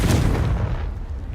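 The Confringo spell in Hogwarts Legacy, a video game, lands as one loud booming blast that then fades away into a low rumble.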